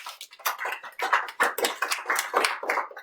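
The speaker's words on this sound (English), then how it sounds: "Clap a little bit." Classroom students clapping their hands in a rapid, uneven burst of many overlapping claps, moderately loud and sustained for a few seconds.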